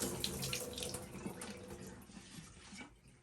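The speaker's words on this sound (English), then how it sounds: "Let's take it over to the sink," Water poured from a reverse osmosis pre-carbon filter housing into a sink, a faint steady splashing stream lasting a few seconds before trailing off.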